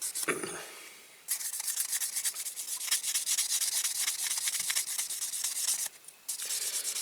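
A die-cast Dinky Toys Bedford TK crash truck part is buffed smooth by hand, with rapid, close scratchy rubbing strokes that run continuously and pause briefly twice.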